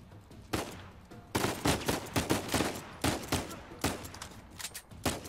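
Rapid bursts of video game gunfire in Uncharted 4, loud, punchy shots fired in quick clusters and fusillades over a few seconds, near and dense with short gaps between volleys.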